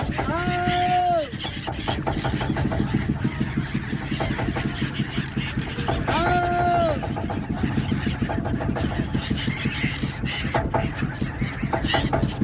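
Seagulls calling over the Ganges River, with harmonic squealing cries rising near 1 and 6 seconds amid a dense, loud background of chatter and crowd noise on the water.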